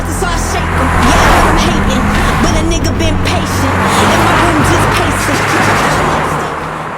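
A Hyundai Creta and a Creta N Line SUV accelerate hard in a drag race, with a loud, sustained engine roar and road rumble close by throughout.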